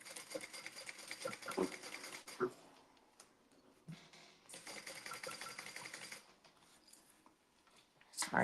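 A home sewing machine stitching a seam at full seam allowance runs in two bursts of quick, steady mechanical whirring, with quiet pauses between them and a faint clunk near the end.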